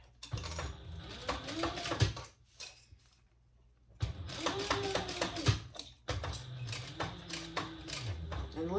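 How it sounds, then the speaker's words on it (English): Close sewing machine stitching around a zipper seam in stop-start runs of fast rhythmic clatter, broken by a quiet pause and brief handling noises. "We're going to sew all the way around at 1/8 of an inch."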